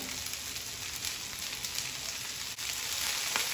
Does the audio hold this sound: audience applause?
no